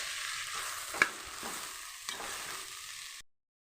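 Jackfruit curry is stirred in a pan, a soft continuous sizzle with a couple of sharp spoon knocks against the metal, then cutting to silence.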